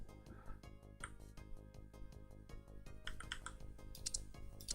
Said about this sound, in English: normal typing